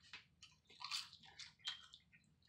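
Crisp crunching of homemade buffalo-style potato chips, heard up close in a few quick bites and chews with bright crackles, no talking over them.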